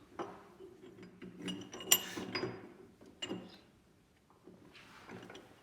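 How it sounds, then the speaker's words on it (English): Metal clamp bolt and clamp being fitted to a South Bend 13-inch lathe tailstock: faint, close clinks, ratcheting clicks and sliding scrapes in irregular bursts, with quiet gaps between and no talk. "The bed, and then install the clamp bolt and the clamp."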